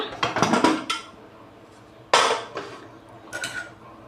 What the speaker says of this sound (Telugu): కుక్కర్ చల్లగా అయిపోయిందండి ఓపెన్ చేద్దాం